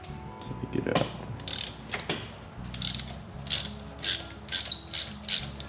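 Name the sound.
spark plug tool removing spark plug from BMW B58 engine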